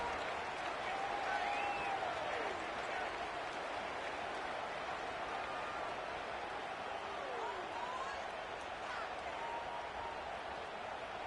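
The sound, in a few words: stadium crowd in college football video game NCAA 26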